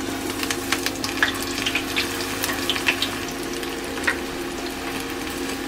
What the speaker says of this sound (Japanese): 170度でこちらの玉ねぎを揚げていこうと思います。